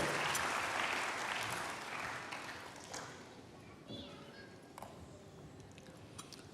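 A church congregation claps, starting as a full burst of applause that gradually thins and fades into scattered claps and faint murmuring.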